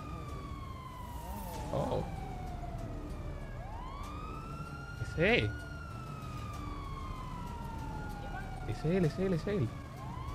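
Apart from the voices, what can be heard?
police car sirens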